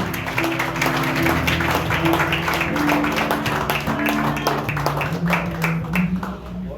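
A church congregation breaks into sustained applause, a steady dense wash of clapping hands that carries on for several seconds over a low murmur in the hall.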